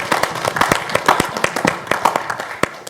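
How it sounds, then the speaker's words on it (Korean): A small audience at a Korean research institute talk concert claps, sharp distinct handclaps in an uneven, fairly close patter lasting a few seconds. "이럴 때는 박수 한번 보내줘야"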